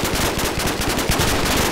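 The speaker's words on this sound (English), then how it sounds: "I'm shooting into the abyss." Rapid automatic gunfire from the Minecraft Flans Mod game, a dense, loud, continuous stream of shots with no pauses through the whole burst.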